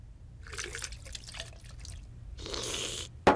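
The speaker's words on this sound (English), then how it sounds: "Smithers, pour me a glass of water." Water poured into a glass in a Simpsons cartoon scene, a near splashing trickle in two bursts, ending with a sharp clink of glass.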